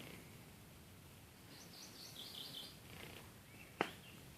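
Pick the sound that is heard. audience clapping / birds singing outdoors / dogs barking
birds singing outdoors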